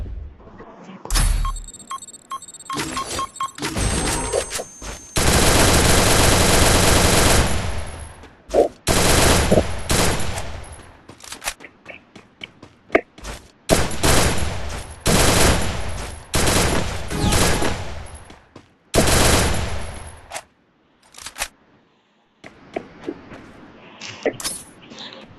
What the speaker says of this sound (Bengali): হেডশট, জানতাম না আমি হেডশট মারতাম